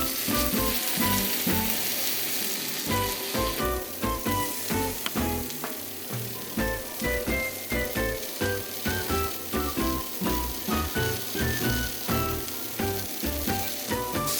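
Green chiles, tomatillos and onion roast on a hot surface for salsa verde, giving a loud, continuous sizzle and crackle with frequent sharp pops and spits throughout, no voices.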